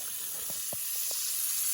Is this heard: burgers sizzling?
yes